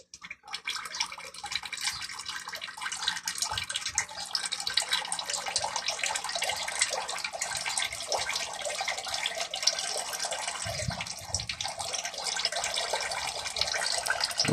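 Engine oil from a 2021 Toyota Rush drains during a DIY oil change, a steady liquid trickle and splatter running continuously with a brief heavier gush near the end, close up and without talk.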